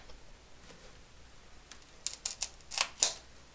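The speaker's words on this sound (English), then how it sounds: "I'm just going to use my scissors" Scissors snip material while a Wicked Yak 55 model airplane is being assembled, a quick cluster of sharp, close clicks after a quiet stretch.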